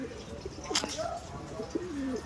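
Faint, low pigeon coos come a few times against steady background hum, somewhat distant and quiet.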